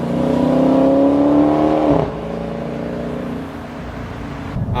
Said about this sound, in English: I think the exhaust note is just loud enough without being overbearing.